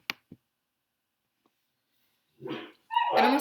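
Dog barking and howling in the Death Mark horror video game, beginning with two brief faint clicks, then silence, then a rising bark and a loud, drawn-out howling cry toward the end.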